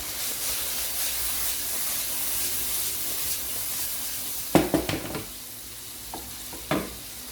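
Vegetables for soup sizzle steadily in a pot with an even, close hiss, then several sharp clattering stirs and spoon knocks break in toward the end.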